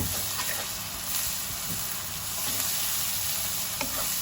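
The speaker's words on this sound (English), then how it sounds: "Just fry this up a little." Masala paste frying for mangsher ghugni, a steady dense sizzle close up with a few faint spoon scrapes, continuous and even, no talk.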